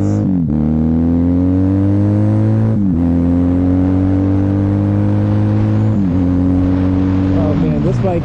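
A Kawasaki KZ440 motorcycle engine idles at around 1500 RPM with a steady, loud low drone, broken by a few brief blips as the throttle shifts.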